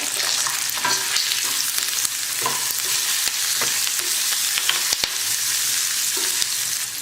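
Coconut pieces and curry leaves fry in a pan for a chutney, a steady close sizzle broken by scraping stirs and a few sharp crackles, with no voices.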